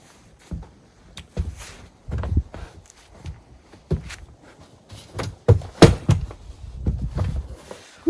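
A house door opening onto a porch, with several dull thunks, knocks and shuffling footsteps spread irregularly, fairly close and with no talk.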